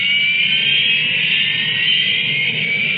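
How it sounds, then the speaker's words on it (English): Harrier jump jet engine roars in a steady, loud, continuous whine and rush, a sustained high-pitched turbine tone over a low rumble with no breaks throughout. "It isn't a conventional jet, but it can match the speed of sound."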